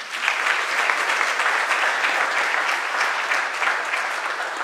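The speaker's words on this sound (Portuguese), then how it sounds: "Palmas para a Bruna" A congregation applauds during a Sunday Mass in church. The clapping is steady and dense, holding at an even level from start to finish with no voices over it.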